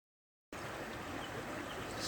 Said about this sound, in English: So here's the river from where I'm sitting